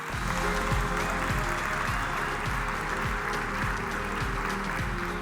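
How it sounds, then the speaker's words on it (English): An audience at a geospatial intelligence conference applauding a speaker as she comes to the stage, steady dense clapping from a large crowd in a big hall, fairly loud and sustained throughout. "Let's give her a round of applause."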